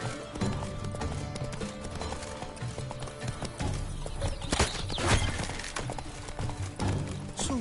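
Roach the horse trots through The Witcher 3 with a regular clip-clop of hoof strikes, close and fairly loud, layered over game ambience and music that swells midway.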